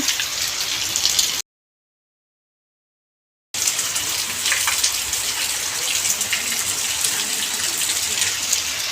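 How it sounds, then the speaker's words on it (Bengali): Steady rain falling after a long dry spell, a dense continuous hiss of drops on surfaces, close and fairly loud, with a short stretch where the sound cuts out completely. "আর অনেক দিন বাদে বৃষ্টি হচ্ছে।"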